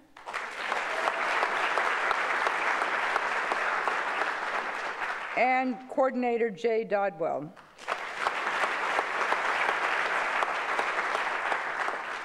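An audience at a youth recognition awards ceremony applauds nominees in a steady, loud burst, interrupted once by a man's announcement, then resuming at full strength.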